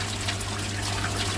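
Water trickles steadily through a circulating pipe system newly refitted with PTFE-taped joints, a soft continuous wash close by over a low steady hum, with no voices.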